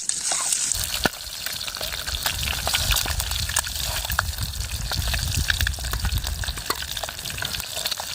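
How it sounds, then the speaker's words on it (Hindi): Eggs sizzle and crackle steadily in a hot pan over a campfire in a deep forest, a continuous close frying hiss with scattered pops, no talk. "ये अच्छे से फ्राई हो जाए और फूटे ना, एक एक करके।"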